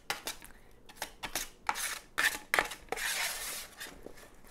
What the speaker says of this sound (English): I'm just going to give them a bit of a stir.